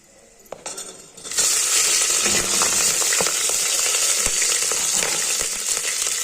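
Whole spices frying in a pan for tomato rice: a quiet clink at first, then a sudden loud, steady sizzle that fills the rest of the clip, with no talking.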